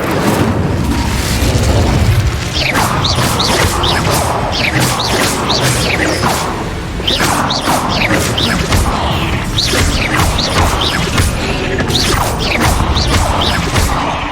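Confringo and Incendio spells blast in the Hogwarts Legacy video game, with dense, loud booms, crackling bursts and whooshing effects one after another under a busy battle soundscape.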